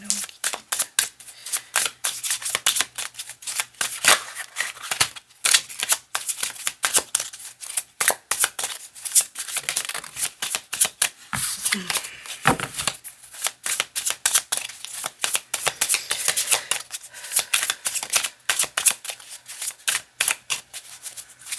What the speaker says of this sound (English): Can I get a clear shuffle?